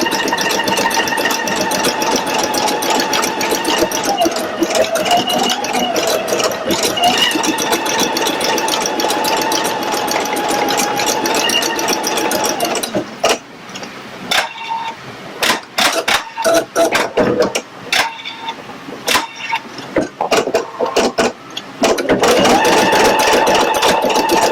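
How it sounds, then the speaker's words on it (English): A Pfaff Creative Icon 2 embroidery machine stitches an in-the-hoop bag design with a loud, rapid, steady mechanical chatter that breaks into stop-start bursts for a stretch before running continuously again. "So it's got all of these little designs at the top of the bag that it's going to embroider now."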